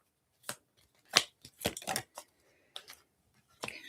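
Tarot cards being shuffled by hand during a live reading, heard as scattered short riffling and snapping bursts with quiet gaps between them, close up and fairly faint.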